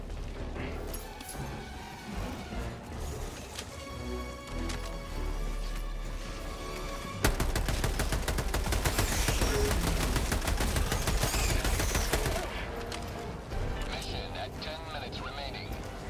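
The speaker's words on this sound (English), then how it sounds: "Let me get the big machine gun." A big machine gun in Helldivers 2 opens up in a sustained, loud burst of rapid fire for several seconds, amid other battle noise, with a player talking over the action.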